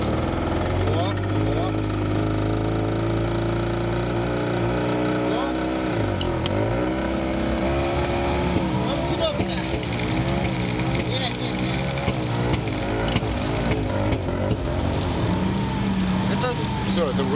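A heavy diesel engine of a KhTZ T-150K tractor runs steadily and close, its pitch climbing and dropping as it revs, with people talking over it.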